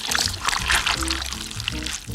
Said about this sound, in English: Now we pour this into the bowl.